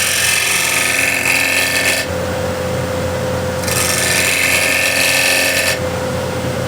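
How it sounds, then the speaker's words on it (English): A turning tool shear-scrapes wood on a lathe, making a steady loud hiss and rasp over the motor's constant hum, with two longer bright scraping passes separated by a duller stretch. "For here I'm going to tilt it up on its side, so we are shear scraping."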